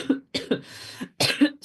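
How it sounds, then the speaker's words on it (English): A person coughs repeatedly, four or five short, harsh bursts in quick succession, close and fairly loud. "excuse me, sorry about this cough."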